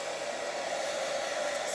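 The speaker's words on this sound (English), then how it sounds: "that's a cool hairdryer anyway" Hair dryer blows continuously on a Gelli plate print, a steady, close, even whir with no other sounds.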